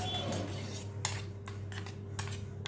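A spoon stirring mayonnaise, tomato ketchup and schezwan sauce in a bowl for a bread sandwich spread, a few short scraping clinks of metal against the dish over a low steady hum.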